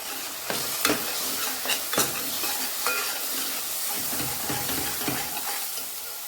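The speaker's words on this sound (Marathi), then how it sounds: "हे सगळे मसाले आपल्याला व्यवस्थित भाजून घ्यायचे आहेत" Red chili powder, coriander powder and garam masala dry roast in a pan, with a steady sizzle under repeated scraping strokes of a spoon against the metal.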